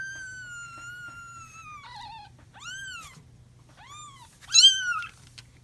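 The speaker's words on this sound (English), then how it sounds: "I discovered they started meowing when I pet them because they think it's their mom." A kitten being petted gives several clear, high meows, some drawn out and some short, close by and alone over a faint low hum.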